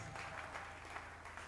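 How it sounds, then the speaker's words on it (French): A church congregation claps together in a fast, steady rhythm during a worship service. The clapping is faint and distant and continues without a break through the whole moment. "Applaudissez très fort pour le Seigneur."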